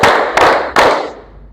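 A crowd of students claps in unison on a count, three sharp, loud group claps spaced evenly about a third of a second apart, each ringing briefly in the room before fading out; no talking.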